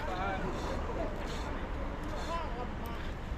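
A fishing boat's engine runs steadily at sea, a constant low droning hum under wind and water noise, with voices talking over it throughout.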